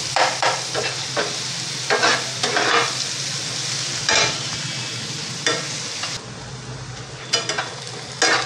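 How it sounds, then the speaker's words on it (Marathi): Onion sautés in a pan with a steady sizzle beneath repeated scraping strokes of a stirring spoon, close-up, with the sizzle dropping slightly near the end. "गुलाबी रंगावर आपल्याला कांदा परतून घ्यायचा आहे।"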